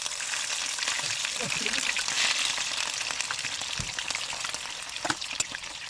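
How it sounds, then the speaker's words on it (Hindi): Marinated fish fries in hot oil in a frying pan for a Pakistani fish curry, a dense steady sizzle and crackle throughout, close by, with occasional soft clinks over it. "इसको हम अभी डालते हैं ऑयल में। इसको थोड़ा सा फ्राई करना है।"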